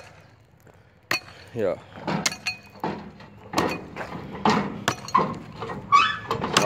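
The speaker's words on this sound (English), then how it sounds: "You can also chip it away with a pickaxe." A pickaxe chips away at a poorly made concrete slab. Several sharp, irregular strikes crack and clink at close range, with brief voices between them.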